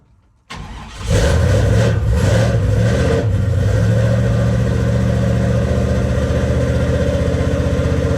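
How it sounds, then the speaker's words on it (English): A rebuilt 350 V8 in a 1968 Chevrolet C10 pickup cold-starts after a brief crank, catching loudly and settling into a rough, steady idle close by, with no talking. "All right, this is a real cold start. Give it a couple pumps."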